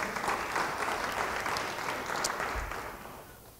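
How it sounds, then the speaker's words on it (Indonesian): Steady applause from a church congregation at an online Bible study, dense and continuous, fading slightly toward the end. "Yang percaya beri tepuk tangan bagi dia."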